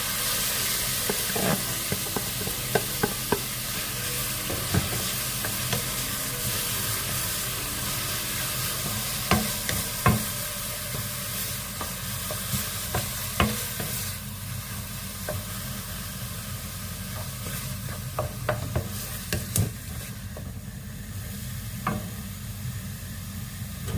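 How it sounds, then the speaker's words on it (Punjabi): Ground onion fries in hot oil in a wok, a steady broad sizzle running throughout with frequent scrapes and clinks of a stirring spoon; close and continuous, with no talking. "ਤੇਲ ਗਰਮ ਹੋ ਗਿਆ ਹੁਣ ਇਹ ਚ ਪਾ ਦਿੰਦੇ ਆ ਪੀਸਿਆ ਹੋਇਆ ਪਿਆਜ਼"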